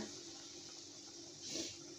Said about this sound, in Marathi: मी यात पाणी टाकून घेते